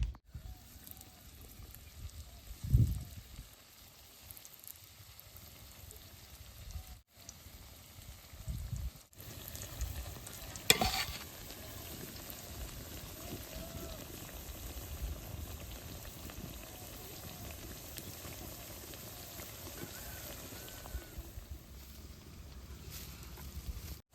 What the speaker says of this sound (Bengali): তেলটা গরম হয়েছে, এখন পিঠাগুলো বেশ সুন্দর করে ভাইজা নেব।